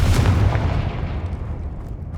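A Confringo blasting spell explodes in Hogwarts Legacy: a loud, deep booming blast that rumbles and slowly fades over a couple of seconds, with no voices.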